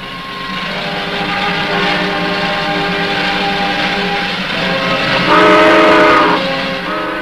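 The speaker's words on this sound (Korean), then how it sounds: "기차는 떠나갔습니다" A steam train departs in 1975 documentary footage of Korean War refugees, with a steady rumble of rolling wagons and a whistle tone rising clearly near the end, with no talk.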